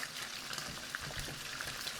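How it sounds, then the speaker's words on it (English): Hot oil spattering in a pan while pork tonteki cooks in a home kitchen, a steady dense crackle and hiss with scattered sharper pops, close and continuous. "Like a geyser of hot oil just shot out of your face."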